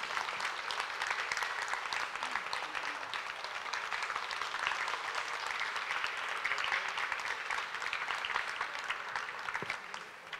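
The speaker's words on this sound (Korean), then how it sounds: "다시 한번 박수를 치드리죠" Steady audience applause at a lecture in a Korean library hall, many hands clapping continuously at moderate level with no pauses, tapering slightly at the very end.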